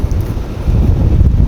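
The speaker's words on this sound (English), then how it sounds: "So we are fighting a little bit of wind today, as you can hear in my microphone" Strong gusting wind buffets the microphone at an outdoor rifle range in gusts up to about 24-25 mph, a continuous loud low rumble that swells and dips throughout with no talk.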